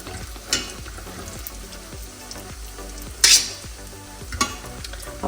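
Risen dough crumpets fry in a pan with a steady close sizzle, broken by a few scrapes and clinks of a utensil against the pan, and no voices.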